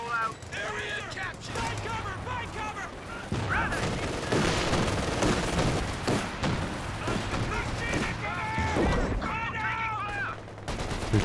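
Machine gun bursts in Company of Heroes 2 rattle alongside scattered gunfire and thuds in a busy battle mix, with a voice talking over much of it.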